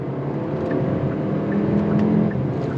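A 2025 Kia K4 GT-Line Turbo sedan pulling hard on throttle in first gear, a steady engine drone building gradually and heard from inside the car, with no talking.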